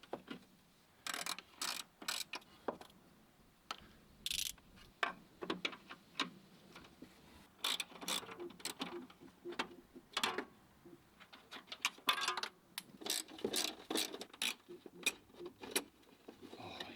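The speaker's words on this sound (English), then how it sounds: "Here I am undoing the bolts for the rear bumper." A ratchet wrench loosens the rear bumper bolts on a BMW E46 M3, sounding as repeated bursts of sharp, close clicking that stop and start irregularly over a quiet background.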